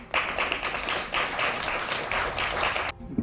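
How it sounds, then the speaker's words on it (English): An audience at an interfaith networking event gives steady applause to welcome a speaker to the stage, a dense close clapping that fills about three seconds and then stops abruptly. "Please give him a round of applause."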